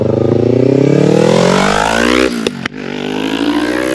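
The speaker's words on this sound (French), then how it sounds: "Julien il est parti nous faire écouter le bruit de sa moto" A 2020 Yamaha MT-03, 47.5 hp, revving hard with a rising, strongly tonal engine whine that cuts off with a snap and sputter, then settles into a lower running burble, loud and close.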